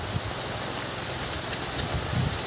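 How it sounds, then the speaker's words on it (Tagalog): Heavy rain pours steadily onto a fishpond in the Philippines, a dense continuous hiss of drops drumming on surfaces, loud and close throughout with no talking. "Lakas ng ulan."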